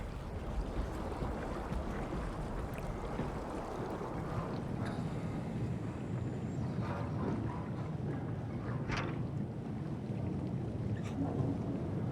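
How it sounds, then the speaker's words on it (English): Underwater currents in the video game Soma, a continuous low rumbling wash with faint swirling noise and occasional surges, steady and moderately quiet, with no speech. "And now we're seeing underwater currents."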